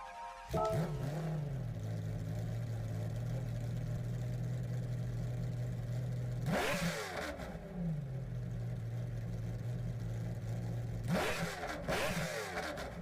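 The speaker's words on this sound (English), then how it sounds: "deep down it has the McLaren F1 engine sound of it" A McLaren F1 GTR's engine in the video game Gran Turismo 7 idles with a steady low drone, then revs hard twice, sharp rising roars that fall back, loud and close throughout.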